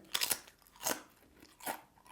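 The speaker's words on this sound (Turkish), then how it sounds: "I love the crunch when I eat crisps." Potato crisps being chewed give three crisp, close crunching bursts spaced apart, with quiet pauses between bites and no talking.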